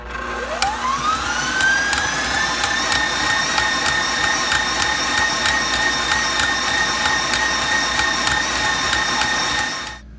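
An electric mixer whips a pumpkin pie filling at steady high speed, its motor whine rising as it spins up, then holding with a rapid even ratcheting whir, loud and close, with no talking.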